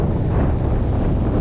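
Icy wind with rain buffets the microphone on a small rocking boat while nets are checked, a loud, steady broadband roar throughout.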